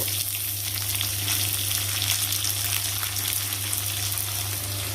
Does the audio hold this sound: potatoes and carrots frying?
yes